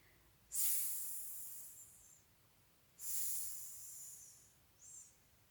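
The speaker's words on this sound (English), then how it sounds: "If you've ever heard a rat snoring before, this is what it sounds like." Soft breathy hissing snores come in slow bursts, two long ones and a short one, quiet and close with no other sounds.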